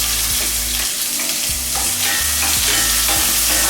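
Onion sautéing in a hot pan, a loud continuous sizzle with repeated scraping strokes of a spoon stirring, close and steady with no talking.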